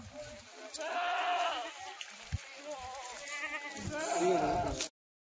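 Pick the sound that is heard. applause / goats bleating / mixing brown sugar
goats bleating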